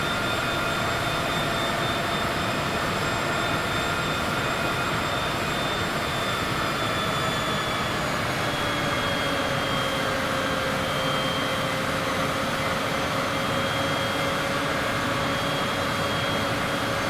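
Cessna aircraft engine in Microsoft Flight Simulator, a steady droning hum with slowly shifting tonal whine, held throughout at moderate level with no talk over it.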